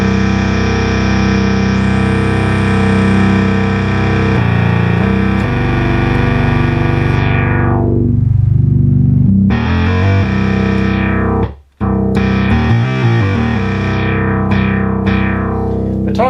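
A restored Realistic/Moog MG-1 synthesizer holds a loud, sustained, buzzy tone with the VCA left open, sweeping through filter contours and pitch changes over about sixteen seconds, with a brief dropout near the end and no talking.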